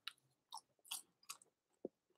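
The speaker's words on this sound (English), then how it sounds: "As my mouth is full here eating snacks" Crunchy roasted chickpeas snacked on up close, giving a few sharp, distinct crunches and bites spaced through the quiet, faint overall, with a low mouth sound near the end.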